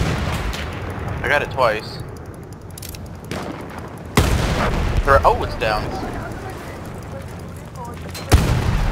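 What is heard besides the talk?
cannon fire in a video game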